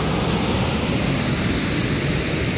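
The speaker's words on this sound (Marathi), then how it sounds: "आत्ता एक व्यवस्थित धबधबा दाखवतो" A waterfall near a temple in Dhareshwar, its water pouring as a steady, dense roar that fills the clip without pause.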